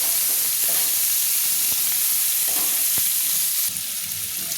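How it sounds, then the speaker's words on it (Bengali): Chopped onions frying in hot oil for a Bengali fish-head and cabbage dish, a loud continuous sizzle with scraping stirs and soft clicks throughout, no voices. "দিয়ে ভালো করে লাল লাল করে ভেজে নেওয়ার জন্য আমি নেড়ে নিচ্ছি।"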